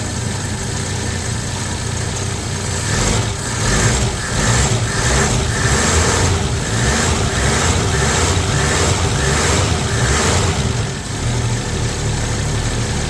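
A 1965 Plymouth Valiant 100 engine idles steadily on its factory fuel system with a low rumbling drone and a faint rhythmic pulsing, continuous and fairly loud with no voices.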